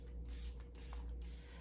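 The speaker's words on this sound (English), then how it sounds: "using the same Milk Makeup setting spray" Milk Makeup setting spray misted from a pump bottle in several short hissing bursts, close up against a steady low room hum, with no talking.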